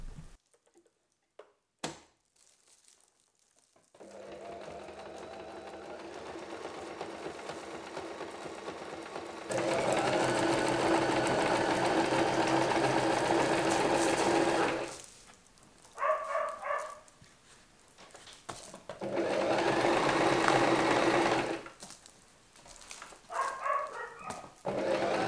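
A sewing machine stitches a quilt in a rural Australian home, running in long steady bursts of several seconds each, then in short stop-start spurts, with quiet pauses between runs and no talking.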